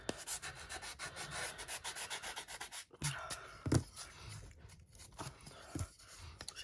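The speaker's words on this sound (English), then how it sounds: "sanding block." A sanding block scrapes excess napkin tissue from the edge of a wooden craft block, a quick series of close, rough back-and-forth rubbing strokes with short pauses between them.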